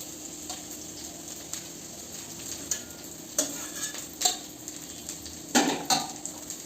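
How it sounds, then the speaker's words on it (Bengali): Capsicum and carrot stir-fried for chowmein in a pan, a soft continuous sizzle broken by irregular spatula scrapes and clinks, a few louder strokes toward the end, close up and with no talking. "এই ক্যাপসিকামটা ভাজা হয়ে গেল, এবার ভাজবো হচ্ছে গাজর।"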